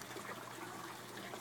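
Nutrient-rich aquaponics water from a tilapia system pours steadily over spinach roots, a continuous close splashing trickle with no speech.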